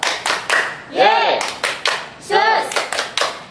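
Children clap along to a rhythmic song at a church children's service, with bursts of loud, close hand claps between singing voices.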